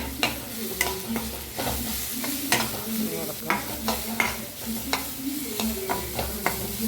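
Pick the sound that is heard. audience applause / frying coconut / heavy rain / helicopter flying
frying coconut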